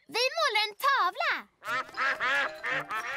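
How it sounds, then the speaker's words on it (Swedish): Cartoon ducks quack in a children's animated show, several exaggerated voiced quacks in quick succession near the mic, mixed with cartoon character voices. "Åh, det är ankorna."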